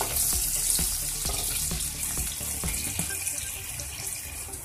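Chopped onion frying in hot oil in a pan, a steady bright sizzle with soft crackles and a few small clicks of a spoon stirring, close and continuous.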